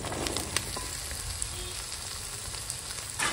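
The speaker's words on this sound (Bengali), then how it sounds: "এই তেলে পেঁয়াজের সঙ্গে আলুটা কষে নেবো।" Potatoes and onions fry together in oil with a soft, quiet sizzle, broken by a few faint stirring clicks.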